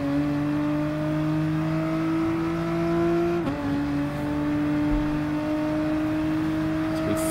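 Race car engine in Gran Turismo Sport, a steady high-revving whine held at full throttle down the straight, with a brief gear shift midway before the tone settles again, loud and continuous.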